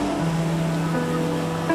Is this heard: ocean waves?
yes